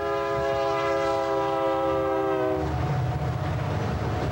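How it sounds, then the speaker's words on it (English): A loud, continuous roar with strong sustained tones like a train horn over heavy rumbling, the tones cutting off partway while the deep rumble carries on. "that sounds like a freight train"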